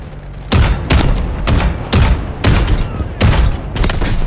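Rapid bursts of gunfire from the Delta Force Hawk Ops shooter game, about eight sharp, loud, evenly spaced volleys roughly every half second, each with a short ringing tail, and no talking.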